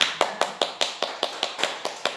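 A church congregation clapping in unison, about ten sharp, evenly spaced claps at a brisk steady rhythm, close and clear with no talk over them.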